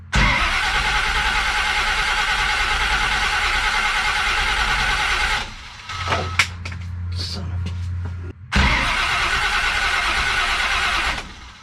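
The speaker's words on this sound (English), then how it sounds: "Crank it off again, get the fuel pressure built up, get fuel in the bowls, see how she wants to light off" A big-cam big-block Chevy engine runs loud and rough, cuts out to a brief quiet stretch with a few clicks and a low hum, then catches and roars back at full volume.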